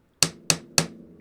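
Three sharp, evenly spaced taps of a DLC-coated 3V steel knife against a table, close and crisp, each with a short ringing decay, no voices.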